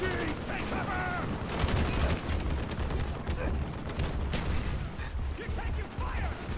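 Call of Duty: Black Ops battle in a village, with dense overlapping gunfire and automatic bursts in a constant loud barrage while voices shout over it.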